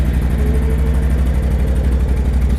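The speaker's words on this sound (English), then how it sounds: "Sounds pretty good though for being a stock exhaust." A 2018 Can-Am 570 XMR ATV engine idles steadily nearby through its stock exhaust, a throaty, even rumble with no other sounds.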